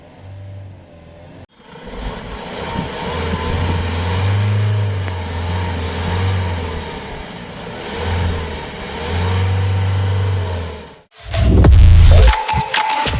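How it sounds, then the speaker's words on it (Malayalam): A 2021 Mahindra Thar's engine idles then revs in repeated swells, a loud, close, deep exhaust note rising and falling over several seconds, ending with an abrupt louder burst. "അപ്പോൾ ഇനി നമുക്ക് വണ്ടിയുടെ എക്സോസ്റ്റ് നോട്ടും കൂടി ഒന്ന് കേട്ട് നോക്കാം."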